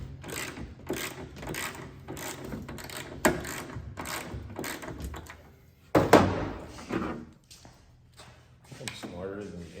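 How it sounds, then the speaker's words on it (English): A Mac cordless ratchet works a bolt on a 1963 Galaxie wagon tailgate, giving repeated bursts of mechanical whirring and clicking, with a louder clattering stretch midway, while someone talks over much of it. "I'm going to use my Mac, I think it's Mac. Yeah. Mac cordless ratchet."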